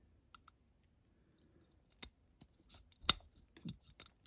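Scissors trimming a part of a Matchbox Jaguar XJ12 banger racing toy car: a few sparse, crisp snips and clicks, close and quiet, with brief handling noises between the cuts.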